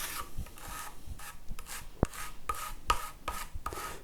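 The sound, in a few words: scraper spreading finish into wood grain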